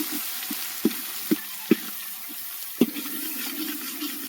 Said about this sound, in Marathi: तर हे टाकूया याच्यामध्ये तेलामध्ये हे परतूया